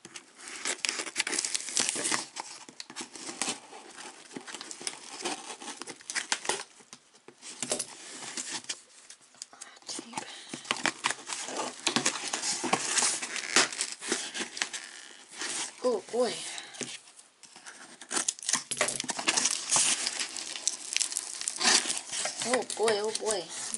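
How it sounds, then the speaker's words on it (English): Fragile packing tape being pulled and pressed onto a mail package, with crinkling, ripping and rustling bursts, close and loud over about twenty seconds, broken by short pauses, with voices partly underneath. "let's tape this up."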